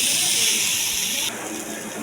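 Cauliflower florets frying in hot oil for a homestyle cauliflower curry, giving a steady, close, bright sizzling hiss that eases slightly partway through.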